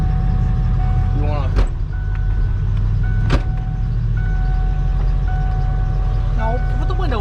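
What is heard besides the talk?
truck backing out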